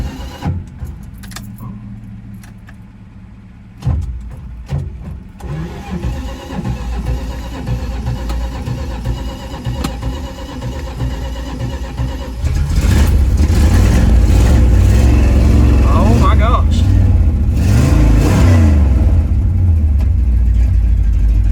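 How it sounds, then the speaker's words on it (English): A neglected MOPAR truck engine runs after about ten minutes of cranking and charging, with faint clicks and a jingle of keys early on, then the engine swells into a loud, steady roar with rising revs in the second half. "It's been about 10 minutes of the truck running."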